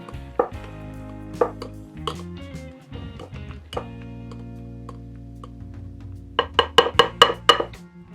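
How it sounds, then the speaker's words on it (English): Bananas mashed with a potato masher in a kitchen bowl: a series of soft, wet squelching presses with a few sharp clinks of the metal masher against the bowl, growing quicker and louder toward the end, with no talking. "The recipe starts off with 3 bananas, mashed. I like using this potato masher for that."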